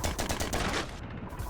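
Rapid enemy gunfire from small guns rattles in a roguelite video game, a fast, evenly spaced burst of shots that stops abruptly partway through.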